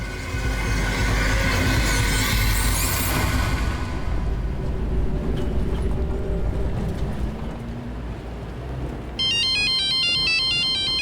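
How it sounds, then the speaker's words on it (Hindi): A mobile phone's electronic ringtone plays a repeating melodic pattern near the end, entering after several seconds of heavy rumbling background noise, with no talk. "मैं आपको फोन उठा के देती हूँ।"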